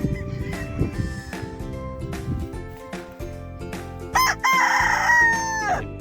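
Game roosters of the Escolin line at a game farm crow amid a busy background of clucking and other fowl noises, with one loud, drawn-out crow standing out near the end.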